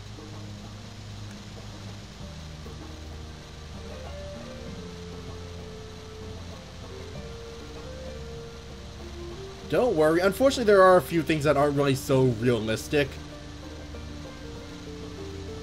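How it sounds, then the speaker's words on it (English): A river in Lost in Blue 3 flows with a steady, low, continuous wash beneath a tonal music bed, while a voice talks over it partway through. "Yep, here's the river."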